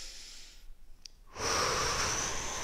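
A sharp inhale during a kickboxing warm-up stretch, a brief faint intake followed by a sustained, close, airy breath that fills the rest of the moment without speech.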